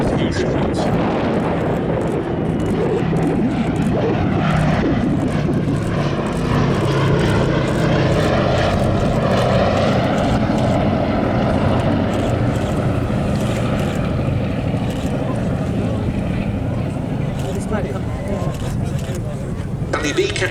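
A B-17 Flying Fortress, the 'Sally B', makes a smoke-on pass simulating two damaged engines, a loud continuous roar of piston propeller engines that swells and holds steady throughout under wind, with a commentator talking over it.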